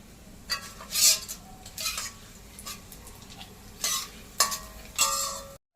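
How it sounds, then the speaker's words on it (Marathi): Edible gum (dink) fries in a pan while a spatula stirs it, giving intermittent close scrapes and metallic clinks over a soft, steady sizzle, with no talking. "दोनशे ग्रॅम हा डिंक मस्त तळून झाला"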